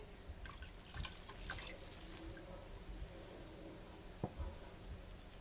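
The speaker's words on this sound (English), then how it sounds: "I'm also going to add about a cup and a half of water" About a cup and a half of water poured into a pot of homemade vegetable broth for vegan Vietnamese sweet and sour soup, a quiet close trickle with a few drips and splashes and no talking.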